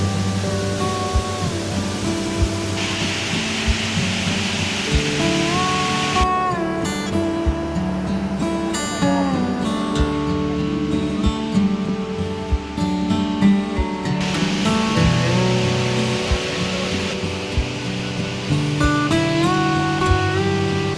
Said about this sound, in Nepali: हिँडेको केही समयमा नै अब यस्तो राम्रो झर्ना आएको छ।